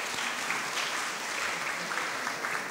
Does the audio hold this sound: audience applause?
yes